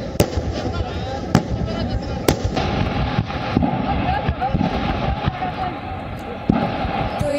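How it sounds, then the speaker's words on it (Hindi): Gas cylinders on a burning truck explode: repeated sharp explosive bangs burst out over a loud, continuous roaring fire, with several sudden blasts spread irregularly across the clip, on a highway. "आग लगने से सिलेंडर में विस्फोट हुआ"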